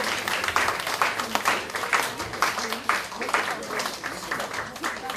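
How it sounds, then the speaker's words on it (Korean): A crowd at a certificate graduation ceremony claps together in a brisk, uneven patter that swells and dips, with voices murmuring underneath. "큰 박수 부탁드리겠습니다"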